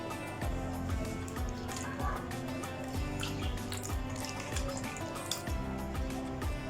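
Water poured and splashing in a bowl while raw cut potatoes for homemade fries are rinsed and stirred, with soft drips and liquid sloshing at close range, fairly quiet.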